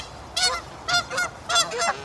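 Geese honk close by in four or five nasal calls, spaced out and then bunched toward the end, over a quiet background with no voices.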